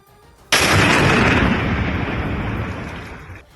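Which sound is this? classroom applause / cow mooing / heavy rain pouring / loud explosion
loud explosion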